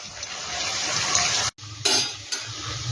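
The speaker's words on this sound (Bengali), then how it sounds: "বড়াটা দেখো কিন্তু খুব সুন্দর ভাজা হয়ে গেছে" Fig kofta balls fry in hot oil in a pan, giving a steady close sizzle broken by a couple of brief pauses and faint utensil stirring.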